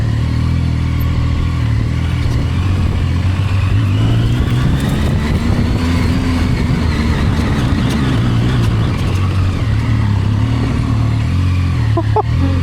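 A Zontes 703F adventure motorcycle's engine drones loudly and steadily while riding, the pitch rising and falling gently with throttle and wind rush, with only brief noises near the end.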